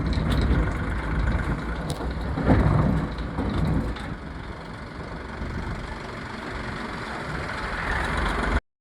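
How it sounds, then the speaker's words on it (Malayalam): A safari vehicle's engine in Nagarhole tiger reserve forest rumbles steadily at a low idle. It grows a little louder for a moment as it draws near, with faint outdoor background and no clear talk. "സഫാരീൻ്റെ വണ്ടി വരുന്നുണ്ട്."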